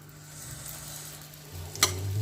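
An omelette fries in a pan with a soft, steady sizzle, then a single sharp scrape and clatter as a spatula flips it, followed by slightly louder frying.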